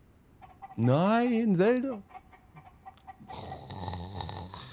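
Chickens cluck around a ruined house on a sky island in the video game The Legend of Zelda: Tears of the Kingdom, the clucking coming faintly before and after a stretch of loud excited talk.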